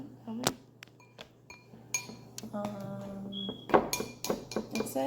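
A spoon clinks and scrapes against a bowl while stirring a cloud slime mixture, with scattered sharp taps growing busier toward the end and voices heard faintly in the middle.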